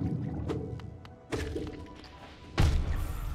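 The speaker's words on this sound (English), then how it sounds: "Okay, well, I exploded." A deep thump bursts out near the end of a short stretch of Hollow Knight play, loud and booming over a steady low game backdrop with a few faint clicks before it.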